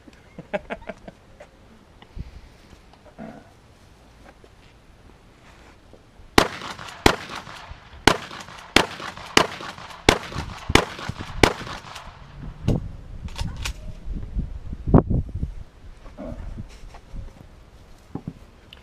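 A shotgun fired outdoors in a rapid string of about ten loud, sharp blasts, each with a short echoing tail, following a quieter stretch of background noise and scattered clatter.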